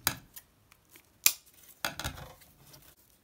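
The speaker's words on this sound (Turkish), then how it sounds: "İpi kesiyorum." Scissors snip through crochet yarn, a few sharp close clicks with one louder cut, scattered among soft handling noises in a quiet room, without speech.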